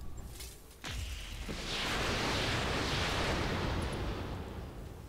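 Heavy weapons fire from battle mechs in the RogueTech mod of BattleTech: a sharp blast near the one-second mark swells into a loud, sustained roar of impacts and rumble that fades slightly at the end, with no talk.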